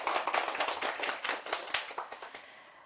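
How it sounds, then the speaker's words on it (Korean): Audience clapping for a priest after his lecture in a church hall, a dense patter of many hands that fades gradually toward the end, with no voices over it. "열정적으로 강의해 주신 안병철 베드로 신부님께 큰 박수 부탁드립니다"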